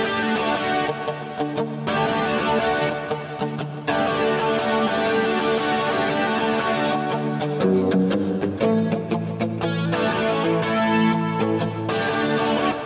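An electric guitar played through a Kemper amp with effects runs through a rock riff, driven chords with chorus-like shimmer in a steady rhythmic pattern, loud and continuous with brief pauses between phrases.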